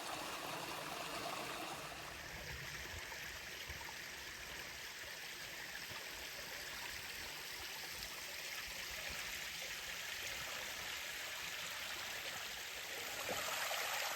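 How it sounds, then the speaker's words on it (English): Small stream waterfalls tumble through Ouzelden Clough, giving a steady, close rush of splashing water that runs unbroken throughout with no voices. "So these are marked on the map as waterfalls."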